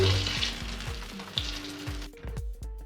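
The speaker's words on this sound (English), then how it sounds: "this brinjal properly fried and become a brown color, and now remove from this oil" Eggplant (brinjal) pieces frying in hot oil with a steady close sizzle and crackle, interrupted by a few soft thuds of a utensil moving them; the bubbling thins out toward the end as they come out of the oil.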